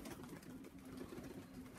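Young racing pigeons coo softly inside a loft, their low, rolling calls faint and repeated over a quiet background hum.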